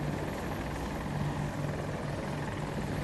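A Little Bird helicopter in a first-person shooter video game roars close by, a steady, loud rotor and engine drone with a low rhythmic thump throughout, no voices.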